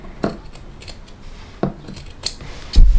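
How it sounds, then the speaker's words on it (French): Fabric scissors snip around rounded corners in cloth for a half-moon shoulder bag, giving a few sharp, separate cuts close by over a quiet background. "je vais simplement découper mes arrondis en suivant les traits que je viens de tracer"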